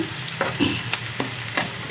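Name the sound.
onion frying in pan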